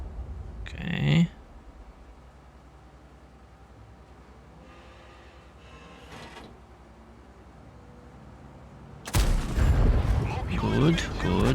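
Artillery fire in World of Tanks sounds as a sharp blast near the start, followed by quiet engine hum with faint clatter, then a loud sustained roar of impacts and rumbling toward the end.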